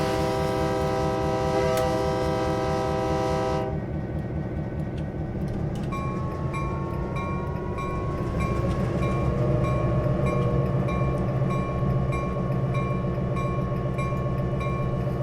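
A train in the Train Simulator 2019 game on the Canadian Hardwood route between Fort Kent and Eagle Lake, with a CN SW1500 locomotive nearby. A long, loud, sustained horn blast opens, then a deep rumbling passage continues steadily with no talking.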